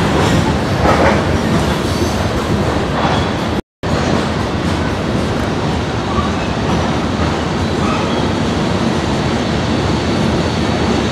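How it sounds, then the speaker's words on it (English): A train rumbles steadily past up close, dense broadband rail noise with wheel clatter filling the whole stretch, briefly cut out for a moment near the start before resuming just as loud. "We got lucky. Train showed up immediately."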